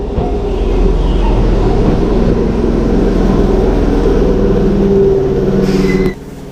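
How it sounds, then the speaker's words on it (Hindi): Local train running through Kyoto, Japan, a steady loud low rumble and drone of the carriage in motion that holds for about six seconds, then cuts off abruptly near the end. "भाई अपनी ट्रेन आ गई है, इसी से जाएंगे लोकल से।"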